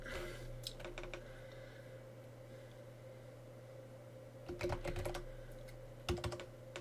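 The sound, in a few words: typing a password on a computer keyboard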